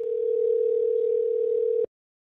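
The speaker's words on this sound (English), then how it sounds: "Here comes a call." A steady telephone dial tone from an outgoing call placed through Zoom inside Microsoft Teams holds one unbroken pitch for nearly two seconds, then cuts off abruptly into silence.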